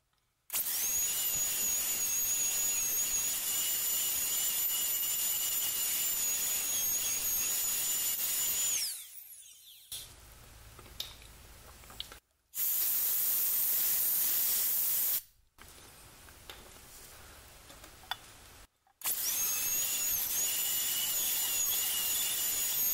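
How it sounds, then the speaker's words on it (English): A high-pitched dental drill whines steadily at close range, drilling into a wisdom tooth, stopping and restarting several times, with a hissing spray beneath and quieter gaps between runs. "Once I drill into the pulp chamber"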